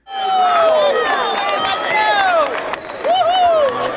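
A packed arena crowd at a boys' high school state wrestling final at the State Farm Center roars steadily, with loud shrill screams and shouts rising and falling over a dense cheering wash.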